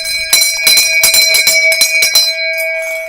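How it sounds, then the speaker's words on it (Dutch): A small bell bought from a local café rung repeatedly in a studio, a quick run of bright ringing strikes with a sustained tone that lingers and fades at the end. "Laten we het eens even over de bel hebben."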